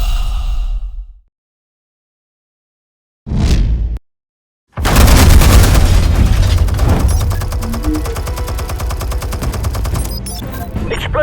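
Gunfire and explosions in a Batman video game: a short blast, silence, another quick burst, then a loud sustained fusillade of rapid shots with booms rolling on to the end.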